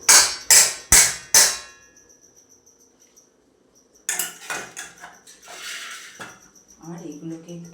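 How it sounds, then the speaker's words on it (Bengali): Chhena, fresh cheese curds, being shifted from a strainer into another pot: four loud metallic clanks in quick succession, then quieter scraping and clinking of utensils, followed by soft rustling. "এই অবস্থায় আমি এই ছানাটাকে স্টেনার থেকে অন্য একটা পাত্রে সাইড করে নিচ্ছি।"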